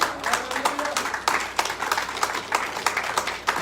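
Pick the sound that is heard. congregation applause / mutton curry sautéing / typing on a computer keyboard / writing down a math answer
congregation applause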